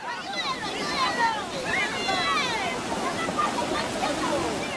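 A swollen river in flood in Peru rushes and churns, a loud continuous roar of water with sloshing surges and some wind buffeting the microphone, while a voice speaks over it.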